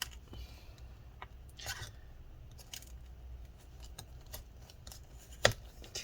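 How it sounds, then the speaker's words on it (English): Prying tool slicing through battery adhesive inside a 13-inch early-2015 MacBook Pro A1502, faint close scraping and small snipping clicks at irregular intervals, with one sharper snap near the end. "we're going to continue cutting the adhesive here"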